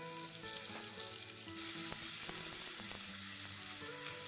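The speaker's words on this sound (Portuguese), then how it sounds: "O óleo está quente, agora nós vamos colocar a pasta de alho." Garlic paste frying in hot oil in a pan, making a steady, dense sizzle throughout with faint stirring scrapes and no voices.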